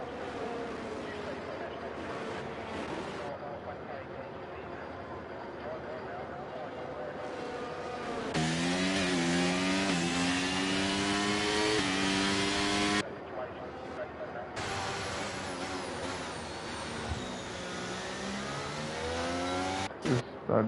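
Ferrari race car engine in a racing video game at the Azerbaijan circuit, a loud whining drone that climbs through gear shifts in rising bands, heard under almost continuous commentary talk.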